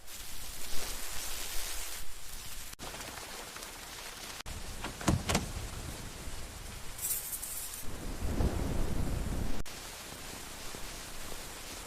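Steady rain hisses with a broad wash of noise, with a few sharper bursts and rumbles rising and falling.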